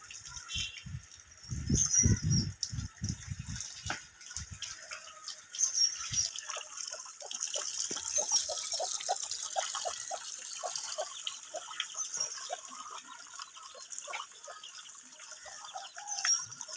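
Water is poured and splashed over a soaped Murrah buffalo being bathed to rid it of ticks. Irregular splashing and trickling runs throughout, with heavier low thuds of water early on, then lighter drips and pattering, and birds faintly in the background.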